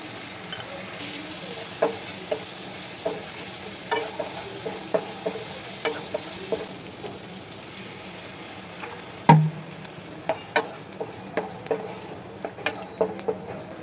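Masala paste with melted tomatoes sizzling in a pan as a spatula scrapes and stirs in a steady rhythm of distinct strokes, close and fairly quiet, with no talking.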